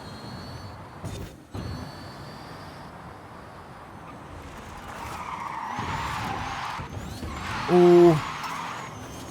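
An all-electric car drifts in Forza Horizon 5, its tires skidding with a rising squeal and engine whine that swells near the end, while a player briefly exclaims.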